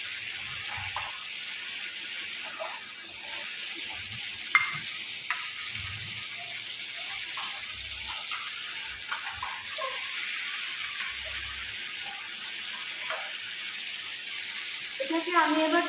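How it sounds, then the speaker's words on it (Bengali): Food frying in a pan, a low steady sizzle running throughout with occasional faint stirring clicks and scrapes, no one talking. "এটা এবার ভাজা হয়ে এসেছে।"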